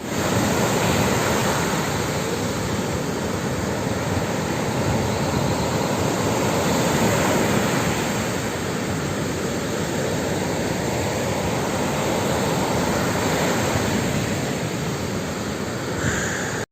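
Rough sea waves breaking on the beach at Cancun, a continuous loud roar of surf and wash that rises and falls slightly, heard up close with no voices.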